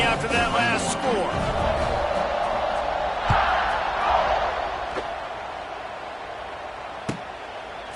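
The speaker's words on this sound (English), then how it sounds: "this crowd is buzzing after that last score" A stadium crowd in the College Football 26 video game buzzes with a broad, steady roar after a score, swelling briefly in the middle and fading slightly, with a voice talking at the start.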